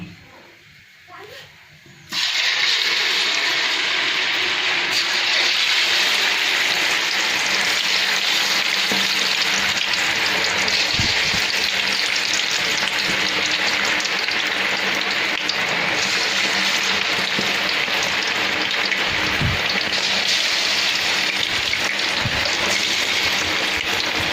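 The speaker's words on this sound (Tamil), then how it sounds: "ஓகே ஃப்ரெண்ட்ஸ், எண்ணெய் நல்லா காஞ்சிடுச்சுங்க. இப்போது மீனை பொரிச்சு எடுத்துக்கலாம்." Fish sizzling steadily in hot, clean peanut oil during home cooking, a dense continuous frying hiss that kicks in abruptly after a brief quieter opening and stays loud throughout.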